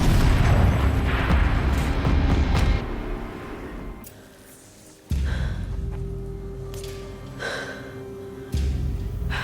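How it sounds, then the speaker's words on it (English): Turret cannon blasts in a Horizon Zero Dawn cutscene: loud booming bursts with rumbling low end, a sharp new blast near the middle and another toward the end, over a dense score with no talk. "Rotate turret! And fire!"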